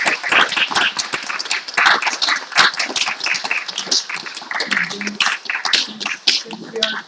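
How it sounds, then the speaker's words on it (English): Applause from a meeting audience at a national assembly: dense, steady clapping from many hands filling the room for about seven seconds, close and loud, with a few voices faintly mixed in near the end. "We can have a nice round of applause for them."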